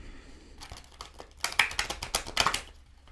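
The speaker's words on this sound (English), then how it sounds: "Let me give it 2 more shuffles." A deck of tarot cards being shuffled by hand, a run of crisp papery riffles and flicks that start softly and build into louder, quick bursts near the end, with no talking.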